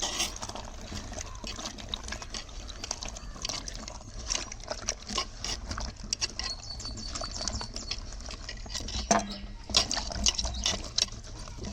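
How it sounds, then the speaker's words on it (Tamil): Mushrooms are rinsed by hand in water, splashing and trickling with soft sloshing and occasional clinks, close and fairly quiet throughout. "காளானை முதல்ல நல்லா தண்ணி ஊற்றி அலசிக்கலாம்."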